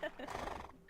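A horse in Black Desert gives a brief, faint whinny while being petted, a short soft neigh that lasts about a second.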